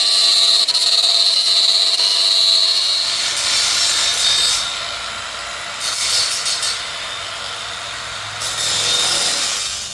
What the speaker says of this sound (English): Here I go, let's do some grinding.